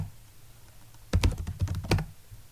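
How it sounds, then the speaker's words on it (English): Keys clatter on a computer keyboard as a terminal command is typed on an Ubuntu server, a quick close-up burst of clicks after a quiet moment, with no voices. "In order to change this, I will have to type sudo vi etc"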